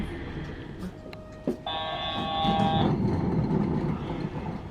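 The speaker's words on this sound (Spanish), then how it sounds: "Estamos viendo cómo entra en servicio uno de los nuevos trenes 7500 de Yurikamome" A Yurikamome 7500 series train in Tokyo rolls in from the depot track to enter service, a low, steady rumble with a brief thump and a bright tonal whine lasting about a second.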